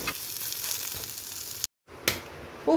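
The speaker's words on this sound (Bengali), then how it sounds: "খুব অল্প তেল দিয়ে এইভাবেই পটলগুলো ভেজে নিলাম, প্রায় হয়েই গেছে পটল ভাজা।" Pointed gourd slices frying in a small amount of oil in a home kitchen, giving a steady close sizzle that cuts out briefly, then resumes with a light clatter near the end.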